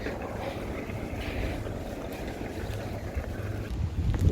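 Strong wind buffets an outdoor microphone along a street, a steady low rumbling roar with gusts that swell louder toward the end, no voices.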